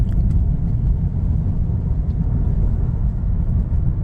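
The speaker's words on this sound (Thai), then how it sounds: "นี่ผมพยายามกดคันเร่งลึกๆ หน่อยนะเพื่อให้เกียร์มัน" A Mercedes-Benz W204 with a 7-speed gearbox, heard from inside, gives a steady, loud low engine rumble and road drone as the accelerator is pressed down during driving, holding an even level throughout without speech.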